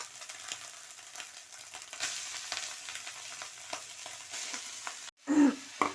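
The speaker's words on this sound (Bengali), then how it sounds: "এবার আমি নারকেলটা একটু ভাজা হোক এবার আমি শাকটা দিয়ে দেবো" Grated coconut and red amaranth greens frying in oil, with a continuous soft sizzle broken by stirring scrapes, then a brief gap followed by a louder burst of sizzling as more is added.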